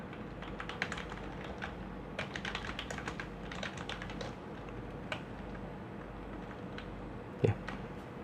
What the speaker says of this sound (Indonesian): Nanti mahasiswa akan mengetik di sini.